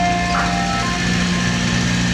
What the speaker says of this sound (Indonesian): Mobil es krim.